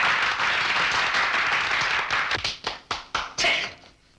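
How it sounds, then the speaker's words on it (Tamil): An audience claps hands in a film scene, a dense steady applause that thins into a few separate loud claps before stopping. "எல்லா பையனும் கையை தட்ட ஆரம்பிச்சுட்டான்"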